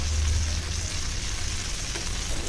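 Surmai fish frying and steaming in a banana leaf: a steady, dense sizzle of hot oil holds evenly throughout with a low underlying hum and no talking.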